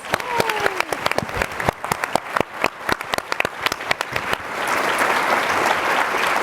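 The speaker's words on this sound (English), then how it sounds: "Let's give them a round of applause." Audience applause for panelists at the morning session of a 2025 sustainability summit, a dense burst of many hands clapping that swells into a steady, loud roar of clapping and builds toward the end.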